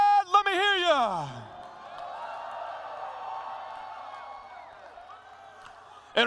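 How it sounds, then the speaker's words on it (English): Fight-night crowd at a mixed martial arts event cheering and whooping, a sustained distant roar of voices after a drawn-out announcer's call that drops away, the crowd noise steady and broad, fading slightly near the end. "It's time for this crowd to get loud!"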